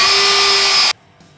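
A CNC machine carves letters into scrap wood with a loud, steady high-pitched whine for just under a second, then cuts off abruptly and leaves near silence.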